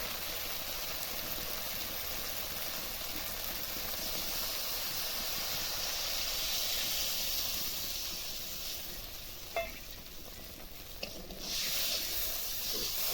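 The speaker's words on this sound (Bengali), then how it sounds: "এখন আমি জল দিয়ে দেবো" Water poured onto fried spice paste for a fish curry sets off a steady broad hiss of steam and sizzling, faint and continuous, with a couple of small clinks near the end.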